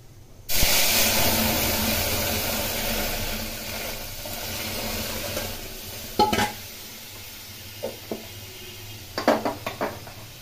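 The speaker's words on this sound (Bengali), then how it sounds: "এখন এর মধ্যে সিদ্ধ করে রাখা ডাল দিয়ে দেবো।" Boiled dal poured into hot oil with fried black cumin and dried chilli, giving a sudden loud hiss that slowly fades, then scattered spoon scrapes and clinks against the pan, close up and without speech.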